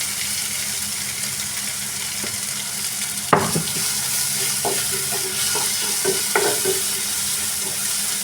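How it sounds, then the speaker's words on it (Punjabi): Chopped tomatoes and finely cut green chilli hit hot oil with fried garlic and ginger, giving a steady loud sizzle, with a sharp clatter of stirring around the middle and a few scattered clinks. "ਹੁਣ ਇਹਦੇ ਵਿੱਚ ਆਪਾਂ ਟਮਾਟਰ ਪਾਉਣਾ ਟਮਾਟਰ ਦੇ ਨਾਲ ਕੱਟੀ ਹੋਈ ਬਰੀਕ ਹਰੀ ਮਿਰਚ"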